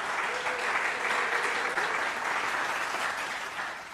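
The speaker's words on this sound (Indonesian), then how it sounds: "Tepuk tangan dong untuk APBN." Sustained applause from a live stand-up comedy open mic audience, loud and even from start to finish, then tapering slightly at the end.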